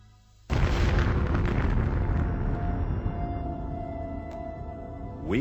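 A documentary explosion starts abruptly with a loud boom, then rolls into a long, dense rumble that slowly fades, with no talk.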